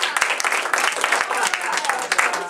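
An improv workshop audience claps after an acting freeze tag game, a small group with distinct individual hand claps, uneven and close, with some voices mixed in.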